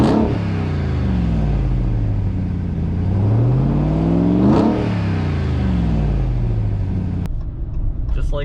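Ram TRX pickup truck driving on the road, a loud engine drone rising and falling through the gears with one sharp rev, while someone talks inside the cab.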